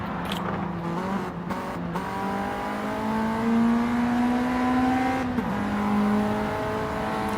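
Racing cars from the 80s and 90s run hard on track, their engines droning in high rising and falling tones as they rev and pass, steady and close, with several cars running together.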